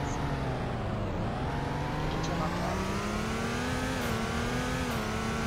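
A car in the Roblox game Greenville, billed as a 1999 model, launches and revs hard, its engine note climbing steadily and holding loud and close, with some talk over it.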